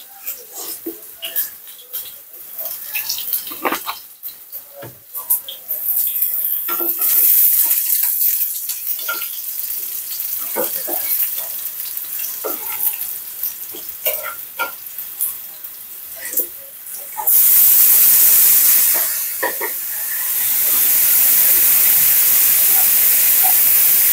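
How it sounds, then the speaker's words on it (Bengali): Flat beans hit hot oil in a pan, with some clattering first and then a sudden loud, steady sizzling hiss that continues to the end. "তেলে দিয়ে দিলাম সিমটা"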